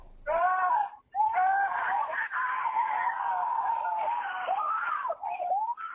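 Children screaming in a recorded voicemail after reaching a patrol car, loud, high and sustained wailing cries that break briefly and then continue almost unbroken, with no speech over them.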